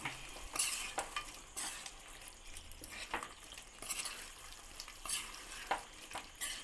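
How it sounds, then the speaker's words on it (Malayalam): Chicken curry with yogurt and tomato being stirred as it fries in a pan: a steady sizzle broken by repeated scraping strokes of a spoon, close and moderately loud, with no voices. "എന്നിട്ട് നമ്മൾ നന്നായിട്ട് ഇളക്കി കൊടുക്കുക"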